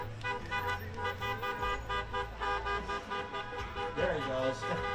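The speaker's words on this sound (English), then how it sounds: "Honk your horn," A horn toots repeatedly from a GMC Sierra 3500 HD truck rolling in a Fourth of July parade, sounding over steady engine rumble and nearby crowd noise, with a voice talking in the mix.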